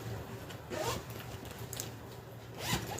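The zipper pocket on a backpack lining is unzipped in several short, close rasping pulls with brief pauses between them.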